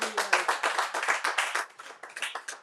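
A church congregation claps in a brisk, steady rhythm to welcome a pastor forward. The claps are loud and evenly spaced, with a faint low voice underneath at the start.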